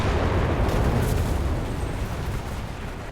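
Heavy bombing explosion in the video game Enlisted, a dense, sustained low rumble and roar that fills the whole clip at steady loudness, easing slightly toward the end, with no talking.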